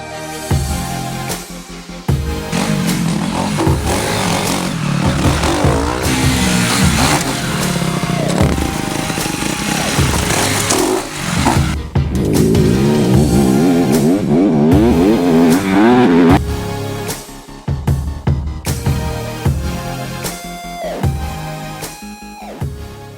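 Honda CRF250R off-road motorcycle ridden on a trail, its engine revving hard and rising and falling as the rider works the throttle, loud and close for most of the run, easing off near the end with clattering.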